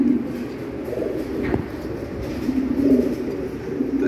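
Show King pigeons coo on a pigeon farm, their low, soft burbling calls swelling and fading in a steady rhythm at close range, with no talking.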